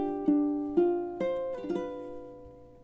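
Ukulele plays measures 3 and 4 of a Christmas song: five or six soft strums and plucked chords in slow time, each ringing and fading, close and with no voices.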